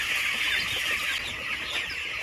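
Hungry fifteen-day-old chicks crowd a brooder, their dense, high-pitched cheeping merging into a continuous chorus that stays steady and fairly close.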